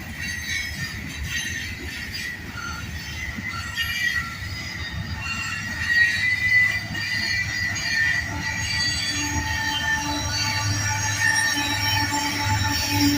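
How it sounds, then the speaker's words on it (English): Freight train car wheels squeal against the rail while a distributed power locomotive pushes the cars, a continuous shrill screech over low rolling rumble with no voices. "Oh, it's one of the cars squealing."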